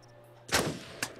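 Two gunshots in a video game, the first a loud sharp blast with a short tail, the second a quicker, softer crack about half a second later.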